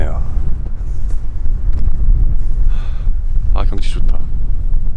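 Strong wind sweeps across Gulupdo island, buffeting the microphone with a steady low rumble that runs the whole time beneath a brief spoken remark.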